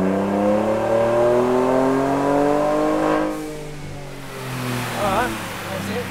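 A car engine runs at open throttle on a dyno, a loud harmonic-rich roar rising steadily in pitch for about three seconds before the throttle lifts and the tone drops and fades, with a voice heard briefly.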